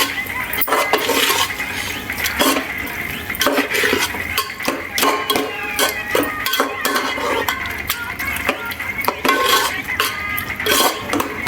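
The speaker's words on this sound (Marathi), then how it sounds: "आता आपण हे सगळं मिक्स करूया" Pav bhaji ingredients being mixed in a pan, a spoon scraping and clinking against the metal in a steady, busy rhythm, close and fairly loud, with no talking.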